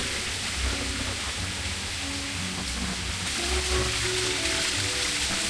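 Steady rain falls at a nature resort, a dense continuous hiss of drops on surfaces that stays loud and even throughout, with no other clear sounds rising above it.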